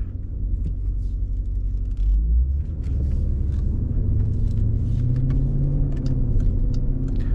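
A Jeep SRT engine drones in a low, steady rumble while being driven with paddle shifting through New York City streets, loud and close from inside the cabin, with faint traffic clatter above.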